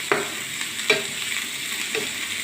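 Egg and bread cutlet mixture with chopped curry leaves being stirred in a pan, three distinct scraping strokes over a soft steady sizzle, close and with no talk.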